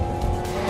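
A modern Alpine A110 sports car, mid-engined and rear-wheel drive with a 1.8-litre engine and 7-speed dual-clutch gearbox, drives past with a sustained engine roar and tire noise, loud and close, with no talk.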